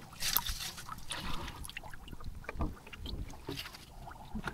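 A rowing boat glides across a haor wetland at Itna during shrimp fishing, with soft, irregular oar splashes and water trickling against the hull, faint and close amid light wind.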